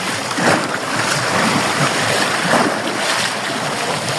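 Ocean waves wash and surge against rocky shore, rolling swells rising and falling twice, with wind buffeting the microphone throughout.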